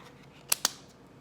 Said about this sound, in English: Let's turn the cards over.